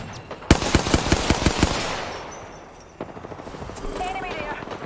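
Gunfire from Apex Legends: a rapid, loud burst of about ten automatic shots in quick rhythm, then a fading tail and a single later shot before quieter firing and a brief voice.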